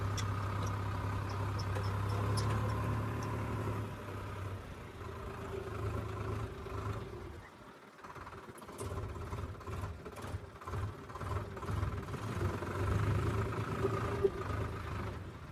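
A farm tractor idles with a low, steady hum that dips briefly partway through and then resumes, faint and somewhat distant.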